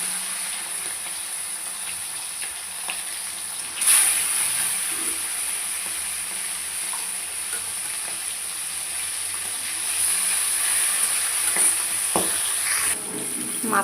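Fish head frying in hot oil in a wok, a steady broad sizzling hiss running throughout with a few louder surges and faint clinks.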